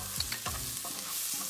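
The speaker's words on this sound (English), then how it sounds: "toss it and mix everything well" Cauliflower Manchurian being tossed and mixed in a pan after frying, a few scraping stir strokes over a soft steady sizzle, close and moderately loud, with no talk.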